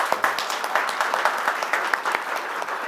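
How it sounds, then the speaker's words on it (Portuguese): A business event audience gives its guests warm applause, with a fairly close crowd of clapping hands and a few sharper individual claps standing out over the steady patter. "uma calorosa salva de palmas para os nossos convidados"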